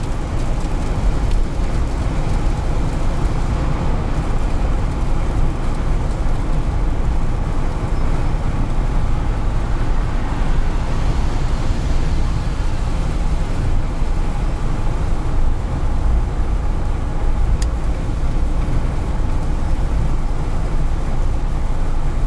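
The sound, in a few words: 2018 Jeep Wrangler road noise at 70 mph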